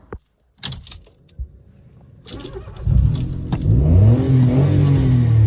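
A Citroen C1 engine with a newly replaced battery cranks and catches, then settles into a steady idle. A jangle of keys comes first, and the engine sound is close and loud.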